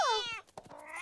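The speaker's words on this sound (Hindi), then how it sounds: "ये बिल्ली ऐसे नहीं मानेगी।" A cartoon cat gives one drawn-out meow that falls in pitch, then lets out a couple of shorter, softer mewing sounds.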